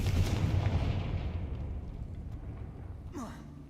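A Confringo fire spell in Hogwarts Legacy bursts as a loud, booming blast that rumbles and fades over a few seconds, followed by a brief swooshing sound near the end.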